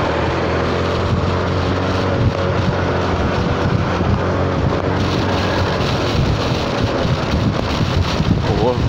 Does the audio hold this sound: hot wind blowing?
yes